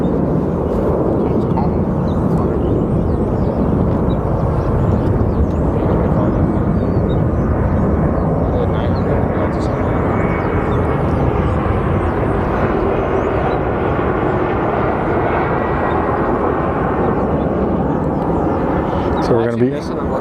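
A small Cessna aircraft at Sky Harbor Airport produces a steady, loud broadband engine drone that holds for the whole stretch, with people talking over it.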